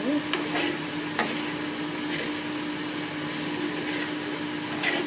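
Food being stirred in a pan, a soft continuous scraping and faint sizzle with a low hum beneath, with occasional brief knocks of the utensil.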